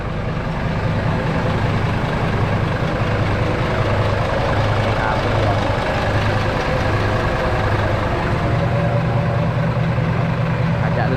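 Hino Mega six-wheel dump truck with a JO7E five-cylinder common rail diesel of 210 horsepower, running with a steady low idling rumble and a faint voice over it.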